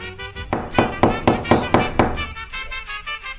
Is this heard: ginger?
no